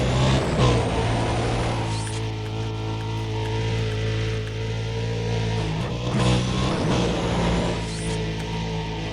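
A car in the Need for Speed: Undercover racing game accelerates with a loud, continuous engine drone whose pitch rises and falls through gear changes, alongside a hum of background game sound.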